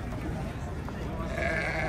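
Sheep bleating at a livestock market in Sokuluk, heard under steady crowd chatter and nearby talking, with a brief higher call toward the end.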